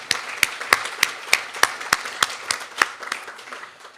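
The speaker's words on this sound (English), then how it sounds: "Audience, can we please have another round of applause for the Singleton Foundation?" A small audience at a business showcase gives a brief round of applause, about a dozen distinct, spaced claps ringing out in a sparse, steady rhythm before fading.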